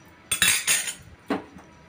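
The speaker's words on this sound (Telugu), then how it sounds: "స్టవ్ వెలిగించుకుందాము, బాండిల్ పెట్టుకుందాం," A metal pan set onto a home stove gives two quick clanks close together, then a third lighter knock a moment later, each short and bright with no voices.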